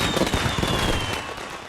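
Dense crackling bursts and pops of video game fireworks fill the clip, loud and continuous, with a faint high whistle running underneath.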